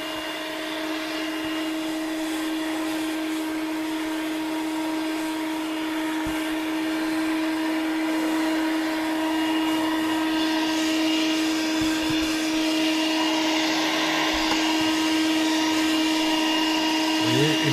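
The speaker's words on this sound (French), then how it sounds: "une fois que l'aspirateur est en route," A 4-in-1 car vacuum cleaner with its brush attachment runs continuously close by, a steady whine with a strong tonal hum that rises slightly in intensity while working over the dashboard.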